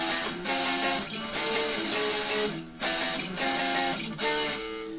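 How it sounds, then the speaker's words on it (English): An electric guitar runs through a distortion pedal, playing a series of chunky power chords in short bursts with brief gaps between them, loud and close. "Now, with just a distortion pedal, it sounds like this."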